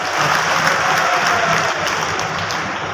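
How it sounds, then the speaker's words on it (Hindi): A large crowd at a public foundation-stone ceremony in Devtalab breaks into steady, loud applause, a continuous dense wash of clapping for the whole span. "चलिए जोरदार ताली बजाओ"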